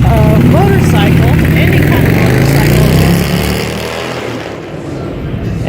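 Loud motorcycles rumbling and revving as they arrive and park at the Harley-Davidson Museum, a close, dense engine roar that slowly fades as the bikes move past, with someone talking over the noise.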